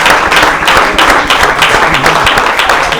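Audience applause at a book presentation in a library, a loud, dense and sustained clapping from a crowd close by, continuing evenly with no pauses.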